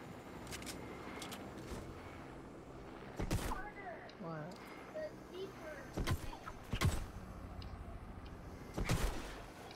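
Gunfire in Fortnite: a few short, loud bursts of shots spaced several seconds apart over a busy game background.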